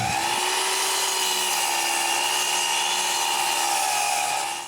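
A power saw cutting cedar wood for a patio table: a sustained, loud whining cut that spins up at the start, holds a steady pitch, then trails off at the end, with no talk.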